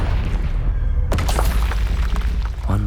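Confringo blasting curse from the Hogwarts Legacy video game, a heavy booming explosion with a crackling, shattering burst about a second in, followed by rumbling debris and a low roar, loud and close.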